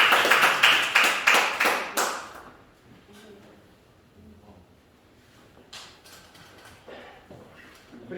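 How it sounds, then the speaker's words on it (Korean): Several people in a classroom clap hard together for a few seconds, a loud burst of sharp claps that quickly dies away into quiet room noise, with a few scattered sounds later. "박수 세게 한번 쳐줘"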